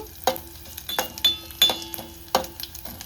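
Garlic fries in a pan for a tangy amla rasam, with a low sizzle under sharp clinks and scrapes of a spoon stirring against the metal, several distinct knocks spaced unevenly.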